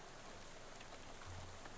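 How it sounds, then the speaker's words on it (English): Rain falling in the video game Shadows Over Loathing, a steady soft hiss of drops with faint low ambience underneath, heard alone without talk. "It's raining."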